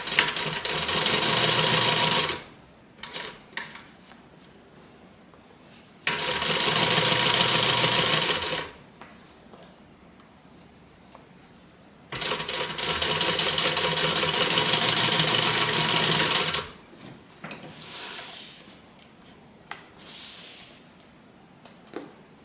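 Sewing machine back-stitching over earlier stitches on a bag, running in three loud steady bursts of a few seconds each, separated by quiet pauses.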